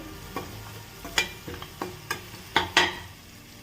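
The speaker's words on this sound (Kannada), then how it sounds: "ಈರುಳ್ಳಿ ಸತಿ ಫ್ರೈ ಆಗಕತ್ತತಿ" Onions fry with salt in a pan under a soft, steady sizzle, with a spoon scraping and tapping against the pan in about a dozen irregular strokes, close up and with no voices.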